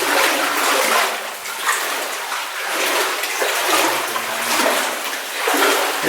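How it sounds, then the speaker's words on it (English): Water runs steadily somewhere ahead inside a gold mine tunnel, a continuous broad rushing wash with a roomy echo, no talk over it. "There's some water running up ahead."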